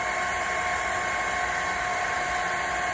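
A heat gun blows steadily while warming a carbon fiber wrap on a Mustang steering wheel, a constant close whooshing hiss with no breaks.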